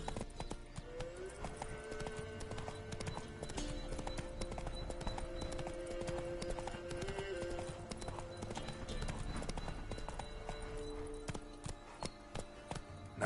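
Hooves of the horse Roach clop at a steady gallop in The Witcher 3, continuous and close, with music and faint voices alongside.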